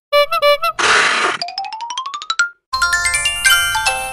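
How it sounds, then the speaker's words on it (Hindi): A cartoony phone ringtone for an incoming call in a Hindi comedy sketch, a loud run of playful electronic tones, boings and rising blips, with a bright melodic jingle after a short gap. "अरे चिंटू के सर क्यों फोन कर रहे हैं?"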